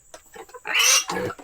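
Native pigs on a farm give a run of short snorting grunts followed by a louder, drawn-out squealing grunt, all close and clear.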